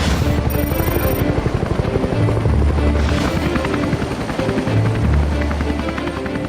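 A military helicopter lifts off nearby, its heavy rotor thumping in a fast, steady rhythm under a loud turbine whine, with the roar swelling and dipping slightly as it climbs.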